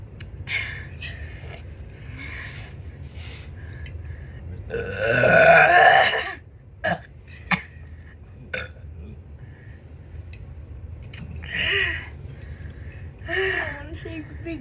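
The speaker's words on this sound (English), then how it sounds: "I don't want to burp yet." Young men hold a burp contest, and one loud, rough belch stands out amid gasps, grunts and scattered chatter, followed by a few shorter burp-like bursts and voices.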